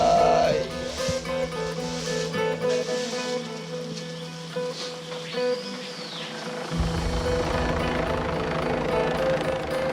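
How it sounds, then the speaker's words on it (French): A helicopter arrives over the Amazon forest in French Guiana for a medical evacuation to Cayenne, its steady rotor thrum and whine holding under a brief quiet spell, with faint voices in the background. "L'hélicoptère arrive enfin pour l'évacuer vers l'hôpital à Cayenne."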